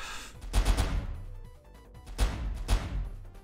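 Gunfire in the game Mister Dispenser, two loud bursts of rapid shots about a second apart with a short lull between, heard alone without talk.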